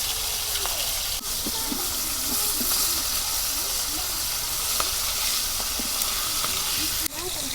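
Pieces of pangas fish fry in hot oil, giving a steady close, bright sizzle with occasional stirring clinks and faint background voices.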